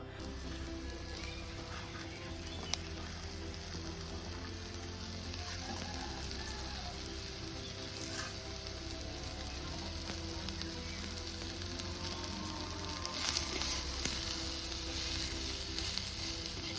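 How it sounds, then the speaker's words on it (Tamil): Steady, dense sizzling of onions and snake gourd frying in hot sesame oil with mustard seeds, continuous and close, with occasional faint clinks of stirring. "நல்லெண்ணெய் கடுகு போட்டு தாளித்ததுக்கப்புறம் அதில் வெங்காயத்தை போட்டு வதக்கிட்டு நறுக்கி வச்ச புடலங்காயை கொட்டி"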